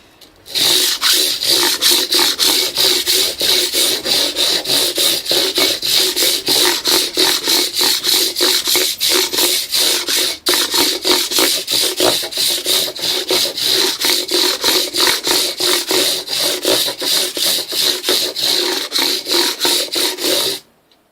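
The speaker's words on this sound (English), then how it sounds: "I rubbed down with some 400 grit and then used some car polish" Guitar frets being rubbed down with 400 grit sandpaper on a wooden block, a loud, fast, continuous back-and-forth rasping that runs steadily with one brief pause at the midpoint.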